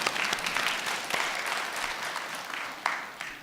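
Church congregation applauding during a Sunday service, steady dense clapping from start to finish with a few sharper claps standing out, moderately loud and with no voices over it.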